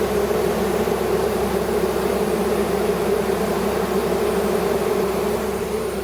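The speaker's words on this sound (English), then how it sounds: "That sound you're hearing is usually the queenless roar." A queenless honeybee hive gives a steady, dense buzzing roar that stays close and constant throughout, with no talking.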